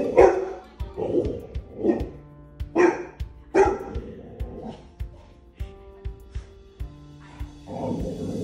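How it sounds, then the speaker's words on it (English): A one-year-old Labrador mix barks in a run of about eight loud, close woofs at irregular intervals, each a short burst, with no talk. "a Labrador mix, who is 1 year old"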